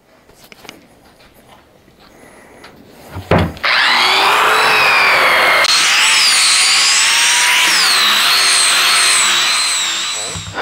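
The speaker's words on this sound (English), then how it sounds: "So I'm just going to hit it with the sander real quick." A power sanding wheel grinds across a wood and resin end table: a few handling knocks, then a loud, continuous high-pitched whine with wavering tones that holds for several seconds close to the listener, with no speech.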